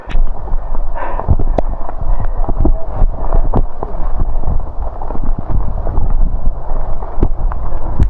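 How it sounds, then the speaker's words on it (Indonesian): Strong wind on a closed, remote mountain trail on Mount Lawu, roaring loudly and continuously against the microphone with rough gusts and scattered sharp thumps, no voices heard. "Alhamdulillah angin."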